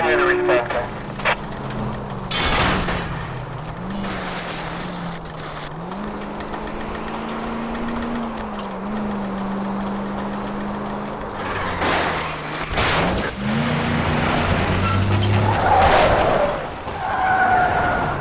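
A car chase in the L.A. Noire video game: a loud engine drone wavers up and down in pitch, broken by several sharp bursts of skidding tires or impacts, with a voice present in the mix.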